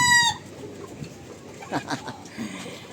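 A rooster's crow cuts off abruptly at the start, followed by scattered soft clucks and light background noise.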